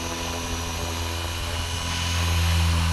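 A Blade 230S RC helicopter hovers in light wind, its rotor and motor giving a steady, loud whine and drone that swells slightly near the end.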